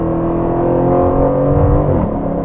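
A 2019 Aston Martin Vantage sports car accelerating hard, its engine revving in a deep, aggressive, rising roar heard close and loud inside the cabin, with no talk over it.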